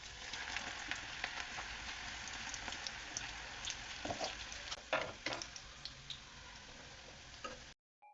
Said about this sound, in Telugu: నూనె కాగిపోయింది, పకోడీ వేస్తున్నాను.